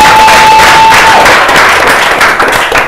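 A steady wash of audience applause at a quiz contest, loud and close, with clapping sustained throughout and a faint tone in the background.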